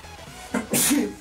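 A single sharp sneeze, close and loud, with a short breathy intake just before it.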